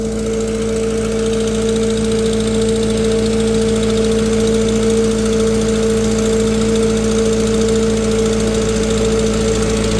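A tractor engine runs on a dynamometer with no PTO load, set to about 625 rpm. Its steady, loud drone stays constant throughout, with no voices.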